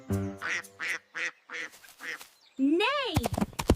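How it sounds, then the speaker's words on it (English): An animated little yellow duck gives a rhythmic run of short, bright quacks, then a longer, louder honking call, in a cartoon-style farm animal sound sequence. "Quack, quack. Here comes the little yellow duck."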